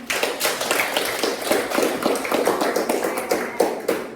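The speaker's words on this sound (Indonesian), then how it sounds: "beri tepuk tangan" A classroom of students claps for a group that has just finished a presentation on virus reproduction, the sharp hand claps dense, loud and close, with no talking over them.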